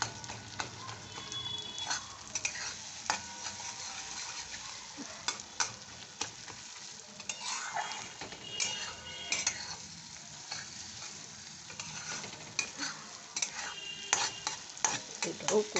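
Fish roe fries in oil with a near, crackling sizzle broken by frequent scraping and stirring clatters of a utensil against the pan.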